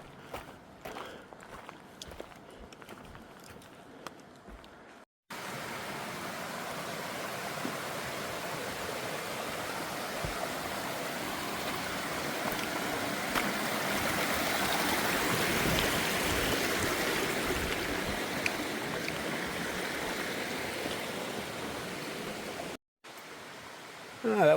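Mountain stream along the Appalachian Trail in North Carolina, a steady broadband rush of flowing water that cuts in abruptly after faint footsteps, holds close and even, then briefly drops out.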